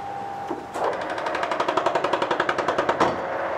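A metal suspension part from a Datsun 1200 Nissan Sunny truck being cut slowly with a power tool, a loud close rapid chattering burst after a short whine, without speech.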